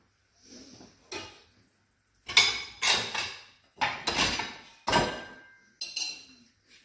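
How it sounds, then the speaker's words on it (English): A knife scrapes food off plates before they go into a dishwasher: a series of about seven short, sharp metallic scrapes and clinks on ceramic, close by and separated by brief pauses, with no talking. "The first thing we do is we scrape down the plates."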